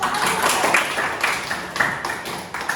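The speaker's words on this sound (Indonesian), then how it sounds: "Kasih tepuk tangan." Students in a classroom give a short burst of clapping for two classmates chosen to come forward, a few pulses of hand claps from a small group, fairly close and brief.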